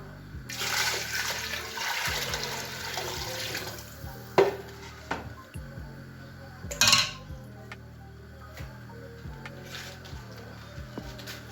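Water pours into a pot of couscous with chicken and vegetables, a rushing splash early on followed by clinks of cookware and lighter bubbling, close and moderately loud, with no talk.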